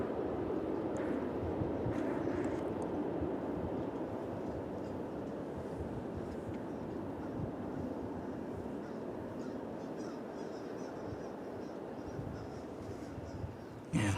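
An Alaska Airlines Boeing 737 MAX 9 arrives from Seattle at DFW Airport, giving a steady, moderately loud broadband jet roar that holds for the whole stretch with little change.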